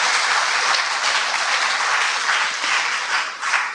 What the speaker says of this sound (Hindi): हाँ, इतनी बड़ी खबर मिली तो ताली तो बजाइए